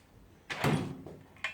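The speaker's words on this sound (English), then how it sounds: "All right, Sam, what's in the top left-hand drawer?" A tool box drawer slides open with a single close metallic rattle and scrape, a short clatter followed by a brief second knock.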